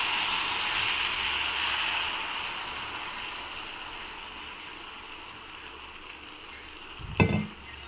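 Rava dosa batter with onions sizzles steadily on a hot pan, a continuous frying hiss that fades slightly, then a brief louder clatter near the end.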